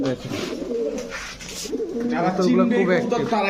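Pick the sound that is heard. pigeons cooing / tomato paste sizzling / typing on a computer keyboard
pigeons cooing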